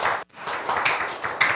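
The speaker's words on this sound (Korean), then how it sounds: "박수 한번 해주십시오." A church congregation claps briefly in a short burst of scattered hand claps, close and somewhat irregular, with a tiny gap near the start.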